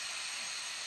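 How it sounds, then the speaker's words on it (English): Portable camping gas stove with built-in igniter, gas valve opened so a steady, loud, even hiss of escaping gas runs without a break. "I can open up the gas a bit."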